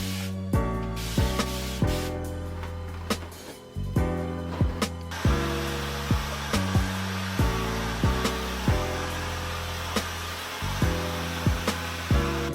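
A hair dryer blows a steady airy hiss while drying afro hair, starting partway through and running beneath rhythmic background music.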